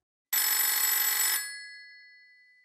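An old-style telephone bell rings in one loud, continuous trill lasting about a second, then fades out with a ringing tail in an otherwise silent room.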